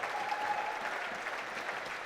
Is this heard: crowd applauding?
yes